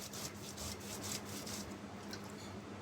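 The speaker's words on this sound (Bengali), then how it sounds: "এই যে কি সুন্দর করে আমি বেটে নিচ্ছি" Spices being ground into a paste on a stone, a steady rough rubbing and scraping that repeats in close, even strokes, loud and continuous with no talk.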